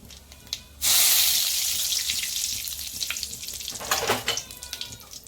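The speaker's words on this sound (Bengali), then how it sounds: "তারপর এখানে দিয়ে দিচ্ছি কালো জিরে" Nigella seeds crackle in hot oil with dried chillies, a loud sudden burst of sizzling that settles into a steady hiss, with a few sharper spits and pops near the end and no talking.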